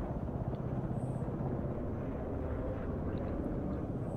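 Military helicopters fly in the Broken Arrow war game as a steady, dense low rumble with engine drone that continues unbroken throughout and carries no voices.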